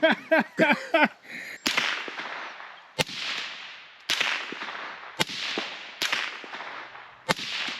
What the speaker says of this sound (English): Actually, doesn't sound bad. This is like my Sandman. That's as quiet as my Sandman.